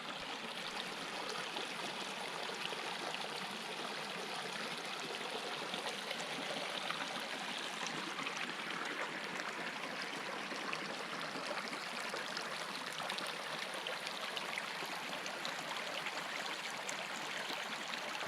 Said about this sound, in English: Gorgeous little creek.